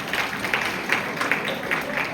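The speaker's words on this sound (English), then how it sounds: "Let's give a round of applause." An audience at a song performance applauds with a brief, moderately faint patter of clapping that comes in soft, uneven bursts.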